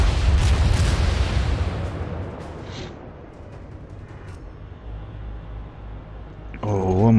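Heavy naval guns of the cruiser Mikhail Kutuzov firing in a warship video game, a loud booming salvo that rolls and fades over several seconds, with a faint electronic tone at the end.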